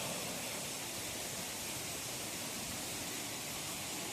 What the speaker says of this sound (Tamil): இங்கே கீழே ஆற்றுல தண்ணி சக்க தண்ணி ஓடுது